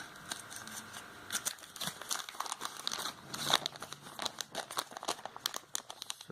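Thin cardboard packaging around a 3.5mm audio splitter cable being unwrapped, with steady close crinkling, rustling and occasional sharp tearing crackles throughout.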